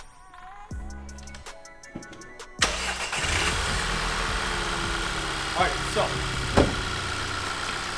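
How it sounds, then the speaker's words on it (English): A 2013 VW MK6 GTI engine cranks and catches after some clicks and clunks, then settles into a steady, close idle with a few sharp knocks, while someone speaks briefly at the start. "Start your car up, make sure it's warm, idling."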